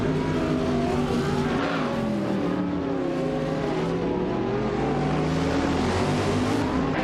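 Hypercars and a 1998 Lotus Tiga Esprit race around a track, engines droning loud and steady throughout with shifting revving pitch as cars accelerate and pass, no voices.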